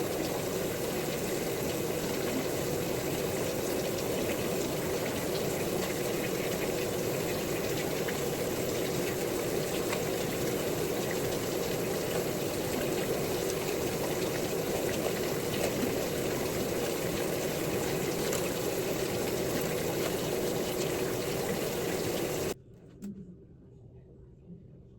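Shower water poured steadily in a dense, unbroken hiss as hair dye rinsed out of locs, then it cut off abruptly, leaving a quiet room.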